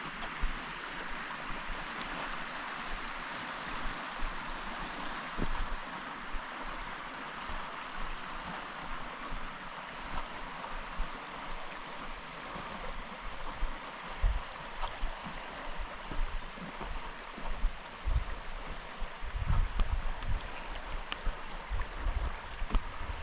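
Running water in a moorland burn fed by a road drainage pipe on a hill farm, a steady broadband rush close by with wind buffeting the microphone and occasional low thumps.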